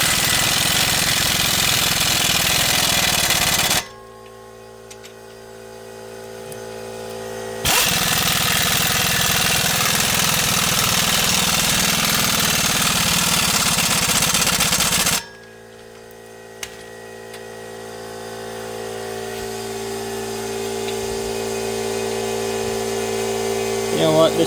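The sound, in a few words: impact gun torquing down lower control arm bolts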